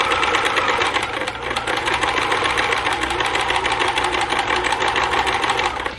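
A sewing machine stitches a stretchy fabric bag for a wheelchair or walker, running loud and steady for the whole stretch with a fast, even mechanical chatter and no voices.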